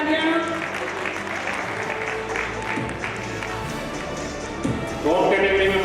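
Loud sustained clapping from an audience at a mines safety week closing function honoring a second-prize winner, steady and dense throughout with a swell near the end, talk faintly mixed underneath.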